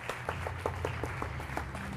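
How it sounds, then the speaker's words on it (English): Light audience applause at an education conference award ceremony in Dubai, a thin scattering of distinct claps over a steady low background hum. "please keep your applause going, ladies and gentlemen"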